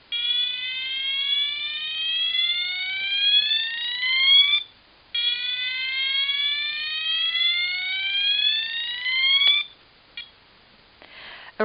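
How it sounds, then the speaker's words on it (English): Two long rising whoop tones of a building evacuation alarm sweep upward one after another, loud and electronic, with a brief pause between them and a faint click afterward. "The sound of the alarm is a slow whoop."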